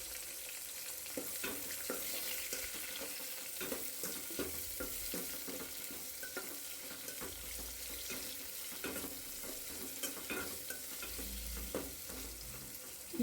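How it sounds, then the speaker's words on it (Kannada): Onions frying in a pan for chicken biryani, heard as a constant, fairly faint sizzle with light stirring clicks scattered through it and no voices. "ಈರುಳ್ಳಿ ಚೆನ್ನಾಗಿ ಫ್ರೈ ಆದಮೇಲೆ"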